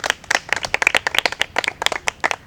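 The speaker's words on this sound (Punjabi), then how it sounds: "ਆਪਣੇ ਲਈ ਇੱਕ ਵਾਰ ਤਾਲੀਆਂ ਹੋ ਜਾਣ" A small group claps in quick, uneven bursts for a few seconds, the sharp hand slaps close and distinct, applauding inspiring Punjabi girls at a live gathering.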